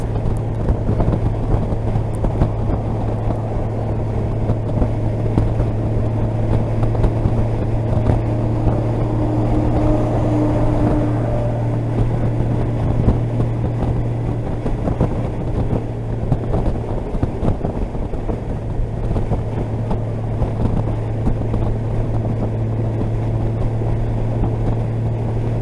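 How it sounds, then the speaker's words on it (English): Low, steady engine drone from a 2019 Honda Gold Wing Tour DCT cruising at highway speed, a constant hum sitting beneath wind rush for the whole stretch, with no talking. "There's a little bit of engine noise, but it's very low down, like a background noise, really."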